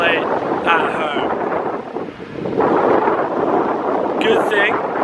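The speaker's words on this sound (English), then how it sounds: "but it's so windy" Strong gusts hit the microphone at a shipwreck on the coast before dawn, a loud roaring buffet that dips briefly and then surges back, with faint higher sounds over it.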